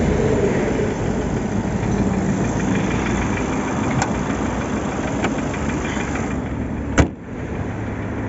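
A 2010 Ford Focus petrol engine idles evenly and steadily up close, a continuous rumble broken by a couple of faint clicks and one sharp knock near the end.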